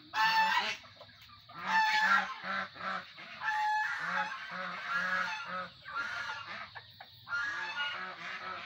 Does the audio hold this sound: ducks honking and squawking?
yes